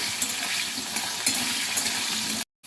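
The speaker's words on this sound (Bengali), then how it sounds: "আলুটা এখন গোল্ডেন অবধি ভাজা হবে" Potatoes sizzling and frying steadily in a pan of hot oil until golden, a close, continuous crackle with faint stirring, then an abrupt cut near the end.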